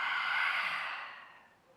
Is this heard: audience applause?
no